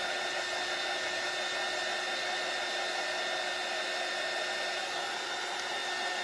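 A hair dryer blows on a sunflower watering can shelf sitter craft piece with a steady, close, even whooshing hum that runs unbroken throughout and has no voices over it.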